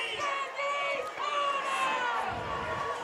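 Barnesville fans in the stands at a night high school football game against Shenandoah make a faint, distant crowd roar of overlapping shouts and cheers that swells and fades.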